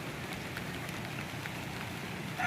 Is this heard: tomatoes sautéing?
no